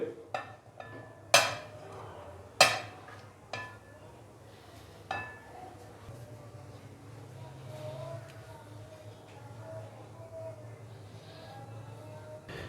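Mashed potatoes go into a mixing bowl while metal utensils clink against it, a few sharp clanks early on, then softer scraping and tapping, fairly quiet in a kitchen.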